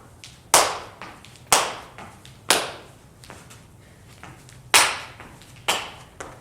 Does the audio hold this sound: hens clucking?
no